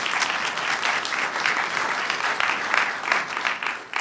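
A conference audience at a Drupal technical talk applauds steadily after the presentation, a dense, even wash of many hands clapping with no talk over it.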